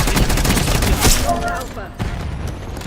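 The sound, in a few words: gunfire in a video game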